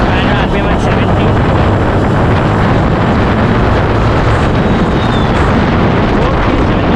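Suzuki Gixxer SF 150 BS6 motorcycle, 155cc, accelerating on the road, its engine roar mostly buried under loud, constant wind rush against the microphone.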